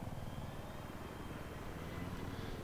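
An attack helicopter in the video game Battlefield 3, flown on the 64-player Canals map on PC, gives off a steady, loud rotor and engine drone that fills the whole stretch without a break, with no voices over it.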